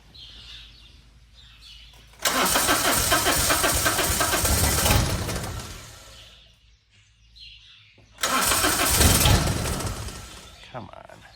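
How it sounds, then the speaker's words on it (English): A Gator utility vehicle engine attempting a cold start, with two loud bursts of cranking and rough running, each lasting a few seconds and separated by a quieter pause, while birds chirp faintly in the background. "Okay, cold start on the gator."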